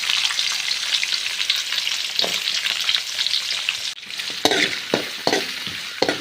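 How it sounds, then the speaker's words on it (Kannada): Chopped onions and green chilies fry in oil in a pan, making a continuous close sizzle with a few sharp utensil scrapes and taps toward the end; no voices. "ಸೊ ಇದು ಸ್ವಲ್ಪ ಆಯಿಲಲ್ಲೇ ಫ್ರೈ ಮಾಡ್ಕೊಳ್ಳಿ ಹಿಂಗೆ."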